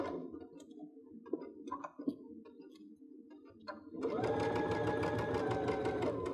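Sewing machine stitching fabric for a party dress, quiet clicks and fabric handling at first, then a steady, close mechanical whir running continuously to the end.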